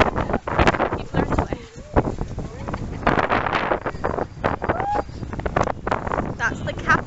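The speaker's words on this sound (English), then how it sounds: "It's very windy, so I may have to take the audio off." Strong outdoor wind buffets the microphone in loud, uneven rumbling gusts near the Capitol building, with voices talking underneath.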